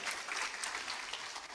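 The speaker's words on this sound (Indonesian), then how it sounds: "Tepuk tangan Bapak Ibu sekalian." A seminar audience gives a short round of applause, an even spatter of many hands clapping that sounds faint and distant, lasting under two seconds.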